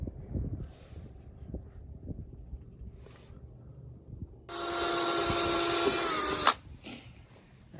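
A power drill bores holes for a depth finder transducer mount, a loud steady whine lasting about two seconds after quiet handling noises, then stopping abruptly.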